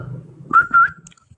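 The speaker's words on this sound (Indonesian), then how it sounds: "pakai siul dia" A person whistles two short, bright notes in quick succession, close and clear, with faint low background sound before them.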